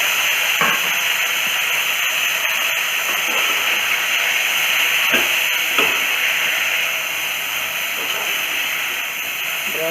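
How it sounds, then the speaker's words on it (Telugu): Broccoli sizzles in hot oil, a loud, steady frying hiss that runs unbroken throughout, with a few faint clinks and stirring sounds over it. "ఇప్పుడు ఇదే ఆయిల్లోని బ్రోకలీని వేసుకోవాలి."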